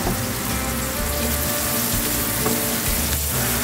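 Ginger, garlic, red chili and onion sauté in hot oil in a pan, giving a loud, continuous close sizzle and frying hiss throughout.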